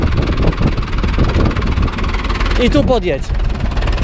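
An Ursus C-360 tractor engine runs at a steady idle, a continuous low rumble under close speech from an instructor giving driving directions.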